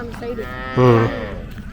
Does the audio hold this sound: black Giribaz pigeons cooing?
no